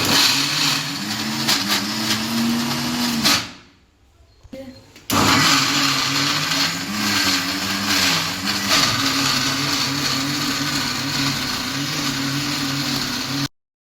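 A loud, steady electric mixer grinder grinding masala whirs with a droning motor hum, briefly stops for about a second, then starts up again and runs on.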